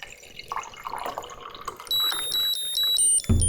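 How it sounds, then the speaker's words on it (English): Water is poured from a pitcher into a cup with soft trickling, then a liquid level indicator in the cup sounds a steady, high, piercing electronic tone in short repeated pulses once the water reaches its prongs. "as you're pouring, once the liquid reaches the bottom of those prongs, it'll create a noise."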